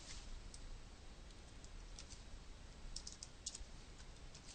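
Faint, quick key clicks tap away on a computer keyboard in a quiet room, sounding as short, irregular bursts of typing with no talking.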